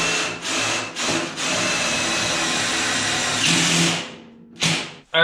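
A power tool drives a screw during a wood-burner fireplace insert project, whirring loudly in several bursts with short pauses between them and a final spurt near the end.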